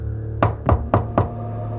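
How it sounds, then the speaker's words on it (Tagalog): Four evenly spaced knocks on a wooden door, firm and fairly close, sounding alone over a steady low hum with no talk. "Pagbuksan niyo muna yung pinto, may kumakatok."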